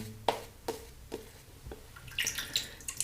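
Water drips onto a Barrister and Mann shave soap, giving a series of soft, close, separate drops spaced irregularly, then a quicker cluster of small wet taps near the end, all faint and quiet.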